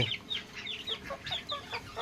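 Soft, quiet clucking and high peeping from several chickens and chicks, a rapid scatter of short calls close by with no talking.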